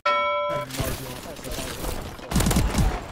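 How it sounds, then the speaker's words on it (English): Shotgun blasts in Call of Duty: Advanced Warfare, a game-tone chime and then heavy close booming shots, with a burst of rapid fire near the end and a voice underneath. "I'm gonna use the shotgun"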